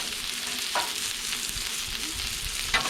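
Onions and peppers frying under a hood on a 36-inch Blackstone griddle, a steady close sizzle and hiss with a couple of faint clicks, no voices.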